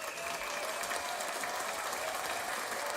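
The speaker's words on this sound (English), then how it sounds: "One more round of applause before we get out of here." A studio audience claps steadily, a dense even roar of applause that holds for the whole stretch.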